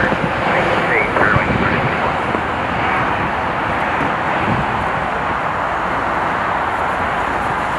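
A jet airliner takes off from runway 25 Right at Los Angeles International Airport, a steady loud engine roar filling the whole span with no breaks.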